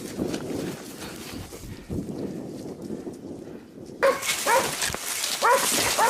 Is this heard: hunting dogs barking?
yes